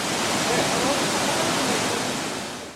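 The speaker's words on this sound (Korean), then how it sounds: "멀리서도 들려오는 물소리," Nachi Falls, a large waterfall in Wakayama, Japan, on the Kumano Kodo, heard from a distance, gives a steady, dense roar of rushing water that fades slightly toward the end.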